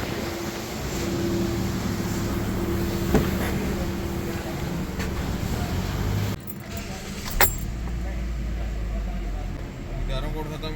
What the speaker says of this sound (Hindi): अब हम गाड़ी को करते हैं ड्राइव और चेक करते हैं अब गाड़ी की क्या पोजीशन है ड्राइव के बाद